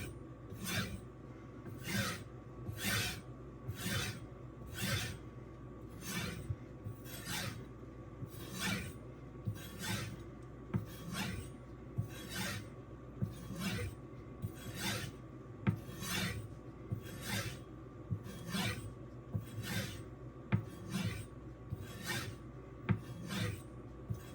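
A knife is stroked on a strop loaded with 1 micron diamond emulsion, giving a steady train of evenly spaced rasping swipes, quiet and close, with no voices.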